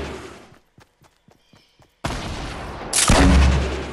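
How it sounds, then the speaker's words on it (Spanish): Shots in a shooter video game: several faint, separate cracks early on, then a loud blast at two seconds and another heavy report about a second later, each with a sustained rumbling tail. "Ha sonado ahí el disparo."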